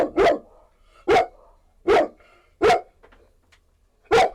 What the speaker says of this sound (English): Sorry about the dogs if you can hear them right now.